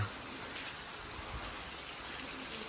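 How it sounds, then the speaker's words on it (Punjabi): Steady, soft rain falls as a faint, even hiss with no voices. "ਉੱਤੋਂ ਮੀਂਹ ਰੋਜ਼ ਪਈ ਜਾਂਦਾ"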